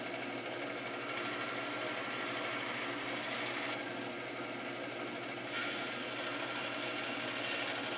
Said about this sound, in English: We just nub that off in little clips on the bandsaw